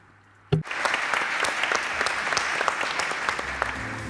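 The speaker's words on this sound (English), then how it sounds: "a big round of applause for our speakers" Sustained applause from a conference audience for the speakers of a goods mobility panel in Bilbao, starting abruptly and holding steady and dense for several seconds.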